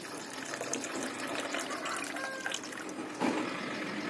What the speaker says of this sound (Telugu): కొద్దిగా వాటర్ యాడ్ చేసుకుంటున్నాను